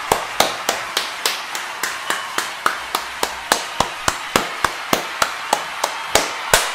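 A long run of about two dozen hand claps at a steady quick tempo, close and crisp, with no talking over them.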